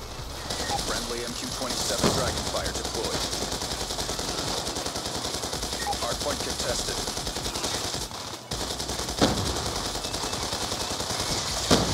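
Rapid automatic gunfire from a Dragonfire drone in Call of Duty: Black Ops 2 rattles loudly and almost continuously, with brief pauses and scattered louder bursts, under a voice talking in the game.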